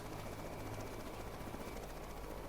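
A military helicopter in the naval combat video game 1971: Indian Naval Front gives off a steady, even rotor and engine drone, heard alone without talk.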